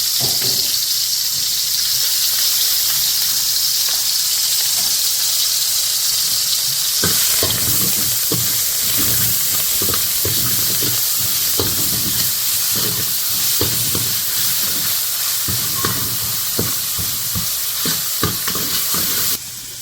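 Ginger-garlic paste sizzles and crackles steadily in hot oil as the base for a pork roast, loud and close, with scattered stirring clatters and spoon knocks from the middle onward.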